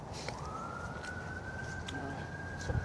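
An emergency vehicle siren wails steadily near a hospital, a single sustained rising then level tone carrying over outdoor background noise for a few seconds.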